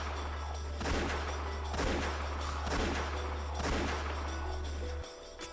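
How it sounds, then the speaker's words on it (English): Gunshots ring out in the Umineko When They Cry visual novel game: four loud, sharp blasts spaced about a second apart, each with a ringing decay, over a steady low hum that cuts out near the end. "The first gunshot actually startled me slightly."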